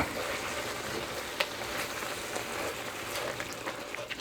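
Steady crackling sizzle of ground turkey frying in a pressure cooker pot, a constant broadband hiss with occasional small pops, no talking.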